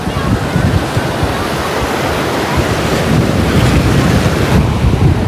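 Sea waves running up the beach at Mandarmani, a steady rushing wash of surf mixed with gusty wind buffeting close to the microphone, continuous and fairly loud with no clear breaks.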